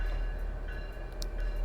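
Five CP SD70ACu diesel locomotives in Train Simulator Classic drone with a steady, heavy low engine hum and faint higher tonal whine, running continuously and close with no talking.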